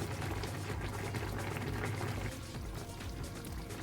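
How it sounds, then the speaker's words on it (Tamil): A thick, creamy butter garlic sauce with chicken breast bubbling and simmering steadily in a pan, a continuous close gurgling texture with no voices. "சிக்கனோட சேர்ந்து இன்னொரு டூ த்ரீ மினிட்ஸ் நல்லா கொதிக்கட்டும்"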